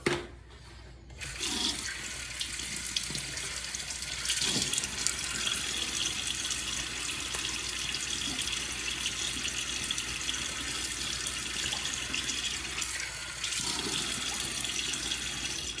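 Tap water running steadily into a sink as a face is wetted before shaving, a loud close continuous gush with brief splashes and a short pause near the start, no talking.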